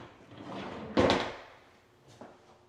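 Closet drawers slide in a walk-in closet of a luxury home: a soft rumble, then a sharp close thump, and a fainter second knock moments later, with no talk.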